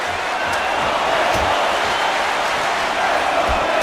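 A crowd roars steadily in the UFC Undisputed 3 video game during a fight, a dense, loud, continuous wash of cheering with a few faint thuds beneath it.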